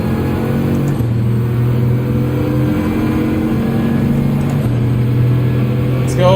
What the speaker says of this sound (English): Nice launch from the Veyron.